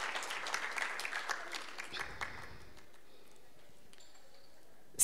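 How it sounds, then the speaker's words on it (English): Audience clapping for panelists at a breast cancer awareness Zumba event, a moderate burst of applause lasting about two seconds that quickly tapers to a few scattered claps before near silence. "and as we sit, let's give clap to our panelists."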